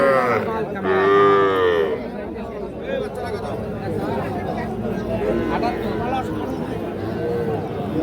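Young Sahiwal bull calves and heifers at a busy village cattle market; one loud, drawn-out moo rises near the start, with crowd chatter and voices continuing underneath throughout.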